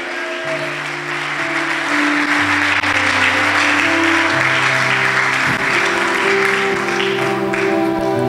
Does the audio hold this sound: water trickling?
no